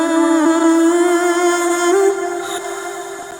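A dry trance synth layer, playing with no smile-style effect or LFO modulation, sustains a bright, harmonically rich held tone that shifts pitch slightly partway through, then softens near the end, alone without any voice.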